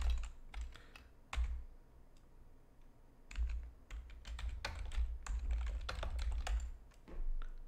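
Keys clatter on a computer keyboard in quick, uneven bursts of typing with brief pauses, close and fairly quiet, no voice present.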